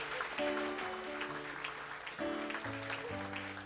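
Church congregation applauding for Jesus during a deliverance service, a sustained crowd clapping with a few tonal notes underneath, moderately distant.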